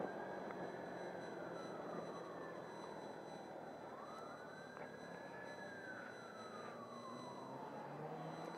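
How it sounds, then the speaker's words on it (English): An emergency vehicle siren wails through city traffic, its pitch sweeping slowly up and down in long rising and falling arcs, steady and moderately distant over a constant background hum of traffic. "I hear sirens."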